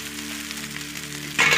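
Egg and vermicelli sizzle in a hot pan as a steady close frying hiss under a low hum, then a louder burst of sizzling as the mixture is stirred at the end.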